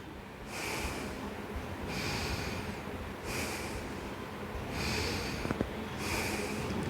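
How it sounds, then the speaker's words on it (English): Slow deep belly breaths during a breathing exercise, five long airy inhales and exhales repeating at a steady rhythm, close and fairly loud with no talking. "Okay, so this is deep breathing."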